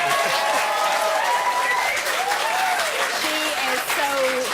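A television studio audience cheers and applauds for a guest arriving on a chat show, a steady wash of clapping and crowd noise with whoops and voices riding over it.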